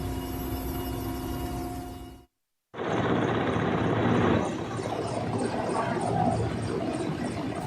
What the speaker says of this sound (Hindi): एयरफोर्स का हेलीकॉप्टर रोपवे के ऊपर है और केबल के सहारे लोगों को निकाला जा रहा है।